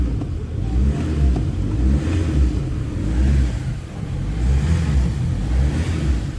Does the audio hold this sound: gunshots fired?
no